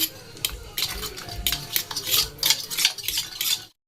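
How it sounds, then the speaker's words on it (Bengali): A spoon stirs a salted batter of flour and water in a bowl, making steady, close, wet scraping and knocking strokes in a quick rhythm, with no talking, before the sound stops abruptly. "অল্প একটু দেব নুন, জল দিয়ে গুলে নেব এটাকে"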